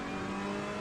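A GT3 race car in Assetto Corsa Competizione holds a steady, loud engine drone as the driver rolls on the throttle, a brief continuous revving tone with no other sounds.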